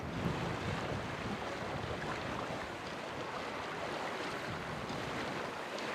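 Constant rush of wind and water around a sailing boat under genoa alone in 15 to 20 knot gusts, waves washing against the hull with heavy wind noise on the microphone.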